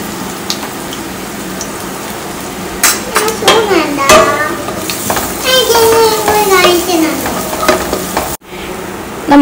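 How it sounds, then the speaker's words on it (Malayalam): Grated coconut sizzles and crackles in hot ghee in a pan while a spoon stirs it. The frying is loud and steady, with scraping strokes and a brief pause near the end. "അതിൻ്റെ അകത്ത് കുറച്ച് തേങ്ങ, ചിരവിയ തേങ്ങ നമുക്ക് ചേർത്ത് ഒന്ന് മൂപ്പിച്ചെടുക്കാം"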